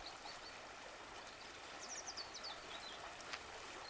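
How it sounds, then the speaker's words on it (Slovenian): A stream babbles steadily in the distance, a soft continuous wash of water with faint bird chirps above it, set near a waterfall. "V daljavi se sliši žuborenje vode."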